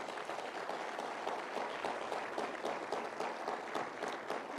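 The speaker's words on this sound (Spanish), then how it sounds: "un aplauso más para el Señor" A church congregation at an evangelistic campaign applauds steadily, a dense, even wash of many hands clapping throughout without pause.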